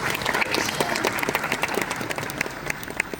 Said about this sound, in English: I think we have to clap.